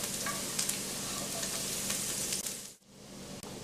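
Two tablespoons of butter sizzling and frying in a hot pan of morel mushrooms, a dense bright crackle close up that stays steady, dips briefly near the end, then resumes with no talking.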